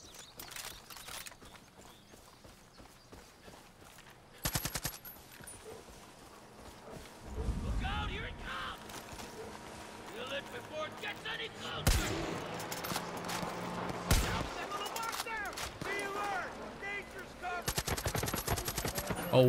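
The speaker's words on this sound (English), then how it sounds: "Kako se čuje smiješna ova puška." Rifle fire in Far Cry 5 comes in sharp bursts and single cracks amid game noise and footsteps, loud and close, with a person talking over parts of it.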